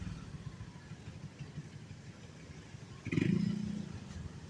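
A motorbike rides along a sidewalk on a busy Bangkok street near Sukhumvit, its engine swelling loud and close for about a second before fading back into the street noise.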